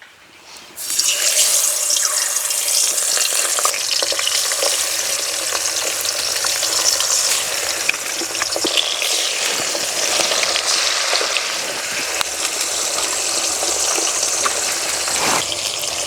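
Bata fish fries in very hot, smoking mustard oil in a wok, giving a loud, continuous crackling sizzle that runs steadily throughout with no voices.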